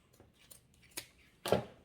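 Scissors cut fabric while a cable holder is being sewn, giving a few light, quiet snips spaced apart, with the last one the loudest.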